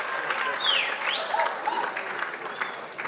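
A crowd cheers and applauds at a 10m air rifle shooting World Cup final, with a dense wash of clapping and shouts that holds steady and loud for the whole stretch.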